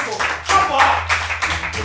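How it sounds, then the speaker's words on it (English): A classroom of students claps for a classmate in a few quick, uneven bursts of handclaps, close and fairly loud, over a low background hum. "Clap for her."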